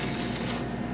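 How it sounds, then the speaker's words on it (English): A can of whipped cream sprays onto a hand in a kitchen with a close, continuous hissing rush that cuts off sharply partway through, followed by a fainter residual hiss. "So we're gonna take the whipped cream and spray it on my hand."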